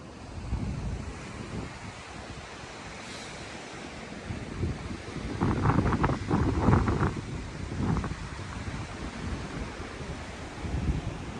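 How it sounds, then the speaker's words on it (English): Strong, ferocious wind at a mountain campsite in the Linville Gorge at dawn, loud gusting roar buffeting the microphone in surging waves, strongest midway, with no one speaking. "that wind is too ferocious to be sitting out there"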